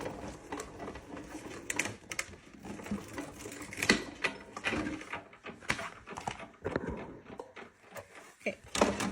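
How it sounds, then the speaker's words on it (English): A Sizzix Big Shot Plus die-cutting machine is cranked to cut a craft material stack, giving faint uneven clicking, ratcheting and rolling noises at close range. "Let's cover it up and roll it through our Sizzix Big Shot Plus"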